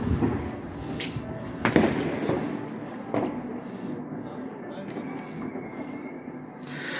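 New Year's Eve firecrackers bang outside at a distance, with a few scattered sharp cracks and thuds over a steady crowd and street murmur.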